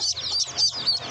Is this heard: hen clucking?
yes